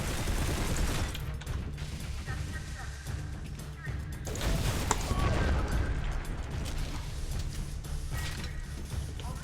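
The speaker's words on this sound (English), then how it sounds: "Does this explosion not do any fucking damage?" Explosions and gunfire rumble in the 2008 Turok video game, a dense, booming barrage with a sharper blast in the middle, while a person talks over the noise.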